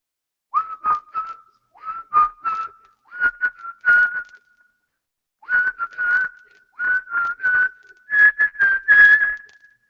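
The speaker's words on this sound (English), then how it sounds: "I know how to whistle." A person whistles a tune in short phrases of rising and falling notes, with brief pauses between them, clear and close.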